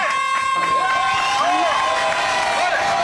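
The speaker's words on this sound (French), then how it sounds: "applaudissements pour Simpson" A TV studio audience applauds and cheers a guest on a French holiday variety show, steady dense clapping with voices and whoops mixed in throughout.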